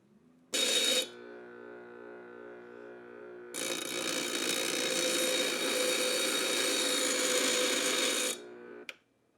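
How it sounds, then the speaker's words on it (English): A power sander sanding a bolt whirs in two bursts: a short loud one, a pause with low hum, then a longer steady grinding run that cuts off abruptly. "I think one more round of sanding will do it."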